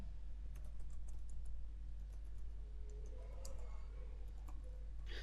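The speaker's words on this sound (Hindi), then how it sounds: "और यहाँ मैं कुछ टाइप कर देता हूँ" Quick, light keystrokes on a computer keyboard, an uneven run of soft clicks over a steady background hum.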